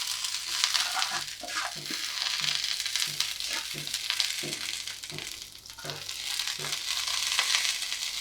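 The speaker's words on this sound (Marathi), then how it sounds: "आणि याच पॅनमध्ये आपल्याला कढीपत्ता कुरकुरीत करून घ्यायचा आहे" Freshly washed curry leaves crackle and fry crisp in a pan, a bright steady sizzle with soft rhythmic stirring or scraping strokes beneath it, close and clear.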